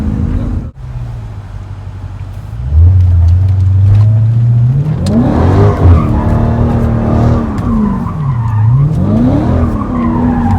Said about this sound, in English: He has some pretty good drifting skills there